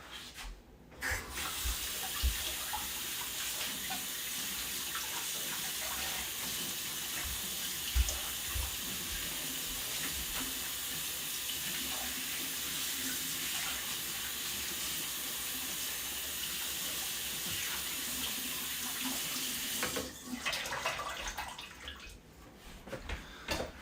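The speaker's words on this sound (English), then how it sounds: "I'm gonna rinse my hands" Hands are rinsed under a running kitchen tap, a steady, close rush of water that pours on almost without a break for about twenty seconds before cutting off near the end.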